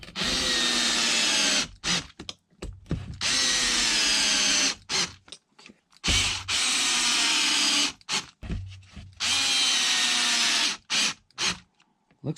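A power drill drives screws during a Poor Man's XRT build, giving loud, high whirring bursts of one to two seconds each, separated by short pauses and a few clicks and knocks.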